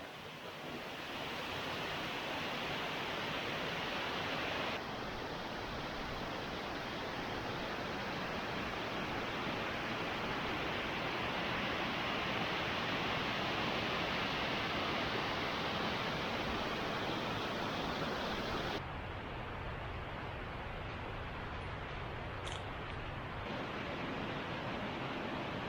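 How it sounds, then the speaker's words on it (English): King Creek Falls, a waterfall on a hiking trail in the South Carolina and North Carolina foothills, roars as a steady, loud broadband rush of falling water, unbroken for the whole stretch with no voices. "King Creek Falls is spectacular. Holy moly, look at that waterfall."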